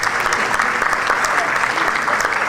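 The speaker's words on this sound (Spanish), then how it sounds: "Seguro que los aplausos no son por boca," An audience at a retail commerce forum panel breaks into applause, a dense and continuous patter of many hands clapping at moderate loudness throughout.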